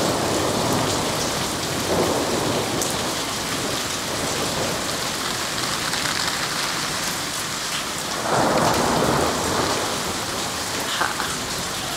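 Steady heavy rain pours down in a Missouri thunderstorm, with low rumbles of thunder rolling in and out, loud and close throughout.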